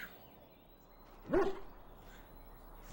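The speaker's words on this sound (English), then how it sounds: "Bouncing around, barking excitedly." A pet dog in the video game Dragon Age Origins gives a single short, excited bark over a low, steady background hum.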